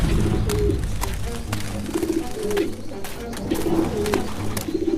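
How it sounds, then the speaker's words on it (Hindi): A pigeon with string tangled around its legs coos in soft repeated bursts, close by, among sharp irregular clicks and rustles that could be wing flaps. "एक कबूतर बुरी तरह जमीन पर गिरा और फड़फड़ा रहा था"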